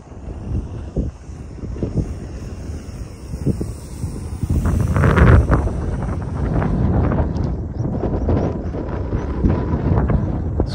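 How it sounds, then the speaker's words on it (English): Breezy outdoor wind at an RC plane flying field, buffeting the microphone with loud, continuous rumbling gusts that swell and ease, no voices. "It's quite breezy today as well."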